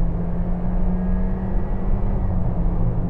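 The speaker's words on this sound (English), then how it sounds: "So I'm going to accelerate now from 50 miles an hour" Honda CR-V petrol engine with a 1.5-litre capacity and automatic gearbox, heard from inside the cabin while accelerating from 50 mph: a steady, loud low rumble and drone with road noise, no talk.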